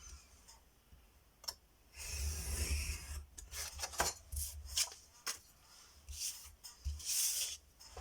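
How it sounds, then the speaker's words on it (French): Paper is cut around the edge for a handmade mini album, with a series of short, close snips and rubbing scrapes separated by quiet pauses. "Je viens découper un petit peu tout autour en laissant au moins 2 cm de chaque côté"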